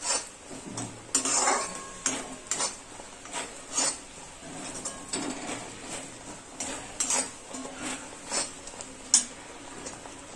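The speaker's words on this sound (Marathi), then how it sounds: "आता ह्याच्यामध्ये टाकायचं हे आणि छान असं मिक्स करायचंय" A spoon scrapes and clinks against a pan while roasted sesame seeds and coarsely crushed peanuts are stirred together for sesame laddu, with a steady run of metallic taps and scraping strokes.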